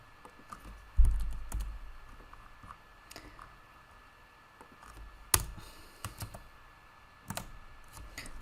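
Computer keyboard typing a MySQL select query, with quiet, irregular key clicks and a few sharper taps spread across the stretch, near and soft.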